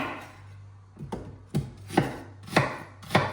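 Close, crisp knife chops through an onion on a board, five or six firm strikes in a fairly steady rhythm, with no talking.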